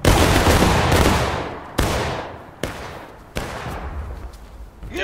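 Infantry line in the War of Rights video game firing musket volleys: a loud, ragged burst of gunfire that decays into rumble, then two or three further single shots and small clustered volleys, close and sharp.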